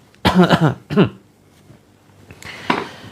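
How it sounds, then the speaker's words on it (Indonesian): Several people in a prayer gathering cough deliberately in a short burst of hacking coughs, followed by quieter throat-clearing and a faint, rougher breathy sound near the end. "Terus kemudian batuk-batukan."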